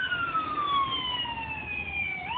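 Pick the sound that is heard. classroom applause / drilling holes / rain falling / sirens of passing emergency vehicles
sirens of passing emergency vehicles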